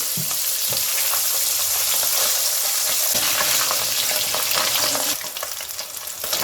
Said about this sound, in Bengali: মাছগুলোকে আমি হালকা লাল লাল করে ভেজে নেব।